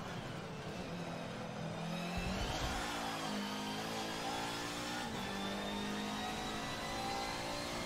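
A turbocharged race car engine accelerating on a track: a steady, droning engine note rises in pitch through the gears, heard continuously and fairly distant from inside the car, with no talking.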